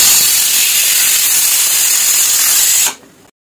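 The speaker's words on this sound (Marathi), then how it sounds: "आपल्या कुकरच्या 3 शिट्ट्या झालेल्या आहेत." Pressure cooker whistle releasing steam, a loud, continuous close hiss lasting about three seconds before cutting off abruptly.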